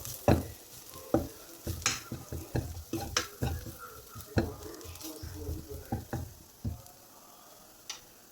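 A spoon stirs turmeric and coriander powder into a capsicum and potato masala curry in a pan, giving a rapid series of close, sharp scrapes and taps over a soft sizzle, with no talking.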